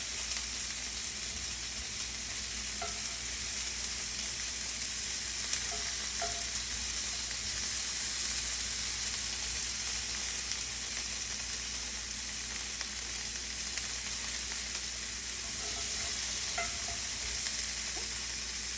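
Sea scallops searing in a pan make a long, even, hissing sizzle at moderate volume, with a few faint ticks and pops scattered through it.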